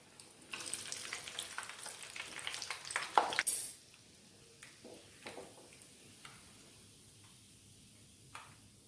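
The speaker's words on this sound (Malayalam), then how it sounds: "ബാക്കിയും കൂടെ നമുക്ക് വറുത്തെടുക്കാം." Egg cutlets fry in hot oil in a pan, a close crackling sizzle with stirring and a sharp clatter around the midpoint, after which the frying fades to a faint, quieter bubbling with occasional small ticks.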